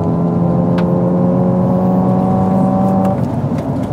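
A 2024 Hyundai IONIQ 5 N plays its simulated exhaust sound, a loud, steady synthetic engine drone with a couple of sharp pops and crackles cutting through, close and continuous for about four seconds.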